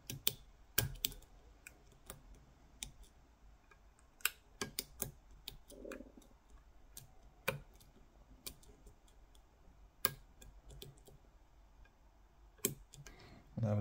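A Ruko mortice cylinder lock being picked: small, sharp metallic clicks and ticks at irregular intervals, close and quiet against a faint background.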